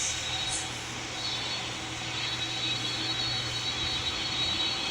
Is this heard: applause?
no